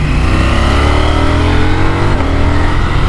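A 2024 KTM Duke motorcycle engine revs loud and close under hard acceleration, its tone sweeping steadily upward through gears on a cold, icy road, with no talking.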